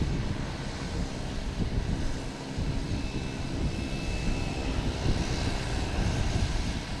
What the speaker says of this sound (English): I do have a Cape Air coming in.